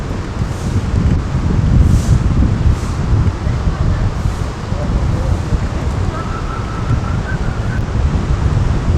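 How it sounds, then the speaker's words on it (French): Strong gusty wind buffets the microphone outdoors, a dense roar with a few faint distant voices underneath. "Il y a du vent, c'est bon là."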